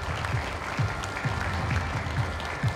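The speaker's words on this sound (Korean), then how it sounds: "마지막 박수로 마무리하겠습니다." Audience applause at a national chamber of commerce chairpersons' meeting, a steady wash of clapping filling the room for the whole stretch at moderate level.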